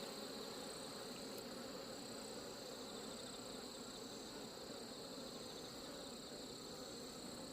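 Hornets and honeybees buzz around a beehive in a dense, continuous insect hum, steady and fairly faint, with no voices.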